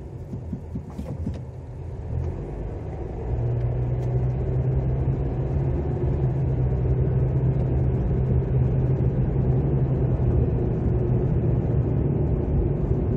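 A car drives through Charlottetown streets with a steady, close engine rumble and road noise. The hum rises slightly after a few seconds and then stays even.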